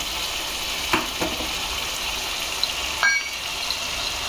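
Onion-tomato masala sautéing in a pan with turmeric and salt for paneer tikka masala, giving a steady close sizzle. Several light scrapes and clinks of the stirring spoon break through it.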